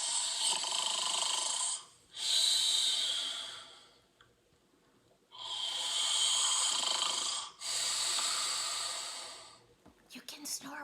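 A storyteller imitates loud snoring, breathy rasping inhales and exhales in long drawn-out cycles with brief pauses between, close and alone.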